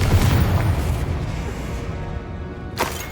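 A fiery Confringo blasting spell in Hogwarts Legacy, a deep booming explosion at the start that rumbles and fades, with a sharp burst near the end.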